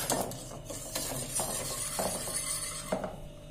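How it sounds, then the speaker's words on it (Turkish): Flour being whisked by tablespoons into a milk-based fruit dessert mixture before it goes on the stove, close and quiet, with soft stirring scrapes and occasional light clinks of a utensil against the bowl. "yemek kaşığı un ocağa almadan şurada şöyle bir çırpıyorum"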